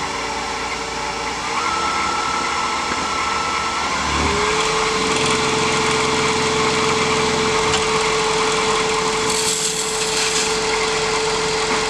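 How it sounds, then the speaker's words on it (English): Wood lathe spinning a walking stick blank as a 3/8 bedan cuts a half-inch tenon: a steady whirring hum with a sustained tonal whine and rough scraping of the tool on wood, loud and continuous with no talk. "I'm going to form that with my 3/8 bedan."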